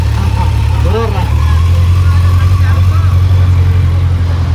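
A Kawasaki Z900 motorcycle engine idling close by with a loud, steady low rumble and some throttle rises, while people talk over it.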